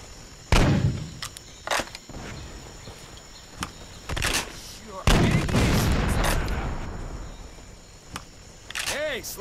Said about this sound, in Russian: Нас обстреливают из миномета.